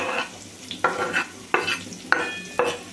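Small chopped onion pieces frying in oil in a pan for egg masala curry, with a soft steady sizzle broken by about four sharp, close spoon scrapes as the pieces are stirred.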